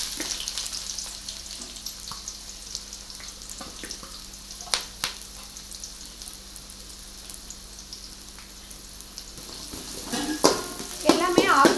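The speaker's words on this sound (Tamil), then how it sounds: "எண்ணெய் ஊற்றியாச்சு, எண்ணெய் காஞ்சிருச்சு. இப்போ வந்து ஆனியன் போட்டுக்கலாம்." Chopped onions go into hot oil in a pan for cauliflower Manchurian, giving a steady close sizzle and fry that grows louder and more crackling toward the end.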